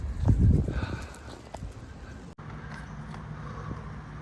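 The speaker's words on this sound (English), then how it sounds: "Beautiful horses." Horses walk nearby, their hooves clip-clopping with a few louder close steps at first, then settling into quieter, sparser footfalls against a low background hum.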